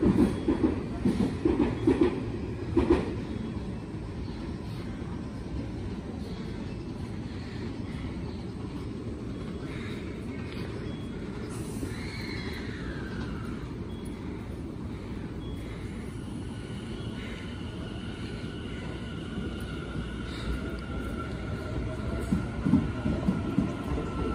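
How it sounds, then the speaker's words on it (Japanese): A six-car Tobu Urban Park Line local train pulls into Kasukabe station, a steady rumbling roar of wheels and rail with clickety-clack joints, a platform announcement at the start and a brief high squeal midway. "7番線に野田市方面各駅停車柏行きが6両編成で参ります"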